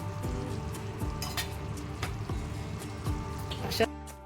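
Stuffed makli frying in a pan, a steady close sizzle broken by clacking spatula strokes as the pieces are turned, ending in a sharper clatter.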